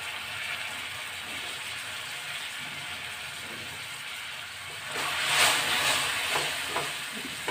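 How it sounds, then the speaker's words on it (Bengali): Tamarind water being stirred into hot sugar syrup in a pan, giving a steady close bubbling hiss that swells briefly near the end, with faint scraping under it. "চিনি রসের সাথে তেঁতুলের জলটা আমি ভালো করে নেড়ে নিলাম।"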